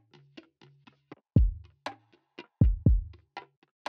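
Lofi bongo percussion group pitched down and thickened with a chorus ensemble effect, a sparse pattern of short hand hits with a few deeper, booming strokes standing out, dry and close with silence between hits.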